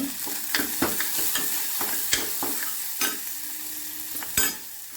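Cumin seeds, dried red chilies and small shallots tempering in hot oil for a rasam, a steady close sizzle broken by sharp clicks and scrapes of stirring, with no talk.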